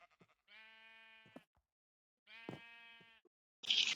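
A goat bleating twice in a quiet setting, each call a drawn-out wavering cry about a second long with a pause between, followed by a brief louder rustle.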